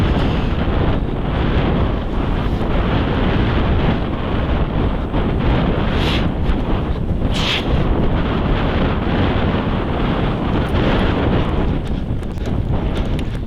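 Strong wind buffets the microphone outdoors during a goose hunt in Yakutia, a loud, constant roaring rumble that never lets up and masks everything else.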